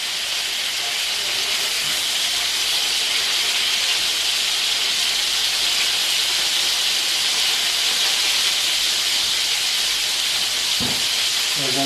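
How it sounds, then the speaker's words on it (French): Prawns and langoustines browning in a pan for a Gandía-style fideuà, a steady, loud, bright sizzling hiss that holds evenly throughout, close up, with a faint clatter near the end. "À la suite, on va dorer un peu les crevettes, les langoustines."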